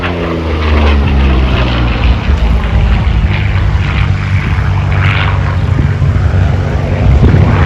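Vintage WWII propeller fighter performing aerobatics at the 2023 Gatineau-Ottawa airshow, a loud rasping piston-engine drone rising and falling as it passes, with a faint announcer voice underneath.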